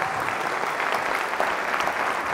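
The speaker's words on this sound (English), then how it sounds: "let's clap it up for the parents and the mentors and the faculty and the staff" Steady, dense applause from a large audience at a school district commencement ceremony for graduating students, continuous clapping at an even level throughout.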